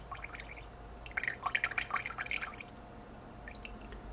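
Cold water trickles slowly over a sugar cube, dripping into a glass of absinthe: a close, delicate patter of quick drips that swells into a brief cluster, then thins to sparse, faint drops against a quiet background.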